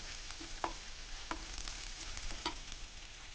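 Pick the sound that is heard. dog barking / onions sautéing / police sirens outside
onions sautéing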